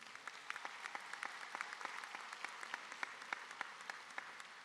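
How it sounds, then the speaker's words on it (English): Distant, faint applause from a high school graduation audience at Clearwater High, a thin patter of many hands clapping in a large hall. "Give yourselves a round of applause, please."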